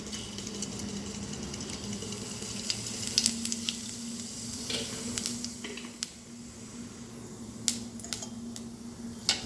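Cardamom, cinnamon, cloves and cumin frying in hot oil, making a quiet, steady sizzle with scattered pops and crackles throughout.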